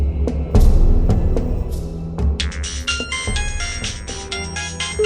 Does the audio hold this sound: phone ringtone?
yes